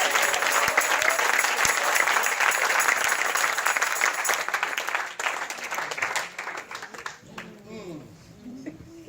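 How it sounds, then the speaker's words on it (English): A church congregation at a New Year's Eve service in New York applauding, a loud sustained wash of clapping that gradually thins and fades, with voices rising underneath toward the end. "Somebody give the Lord a clap"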